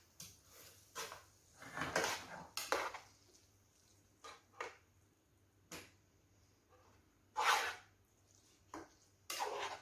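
Cutlery scrapes and clinks against a plate and pot as rice and curry are served, in a string of short, quiet, irregular knocks and scrapes with pauses between them.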